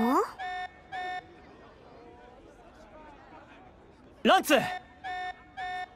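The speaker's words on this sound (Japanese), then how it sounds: "警報が気になる。" Alarm blaring in the Xenoblade Chronicles 3 game, a pulsing electronic tone in evenly spaced pairs of bursts around a burst of speech in the middle.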